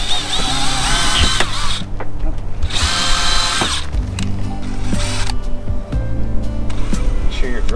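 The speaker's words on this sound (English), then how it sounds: "We'll just go and drill." A power drill bores through the body panel of a Land Rover Defender 110 for a gull wing window, whining in repeated bursts with grinding and pauses between, close and loud, with a voice speaking over parts.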